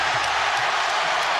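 Basketball arena crowd in Cleveland reacting during LeBron James's first game back, a dense, steady roar of many voices filling the space without letting up.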